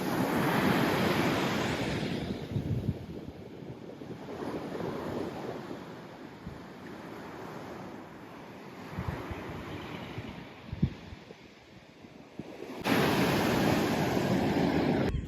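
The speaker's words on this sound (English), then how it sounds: "it's windy" Strong wind buffets the microphone over the rushing roar of surf breaking on a New England shore, easing in the middle before gusting loudly again.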